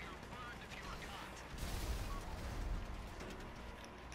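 Rapid, sustained minigun fire in GTA 5 Online during a heist, a dense rattling burst that grows louder partway through, heard faintly under players chatting.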